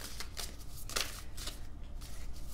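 Tarot cards are shuffled by hand, close and quiet, as a soft continuous riffle with a few sharper flicks of the cards and no talking.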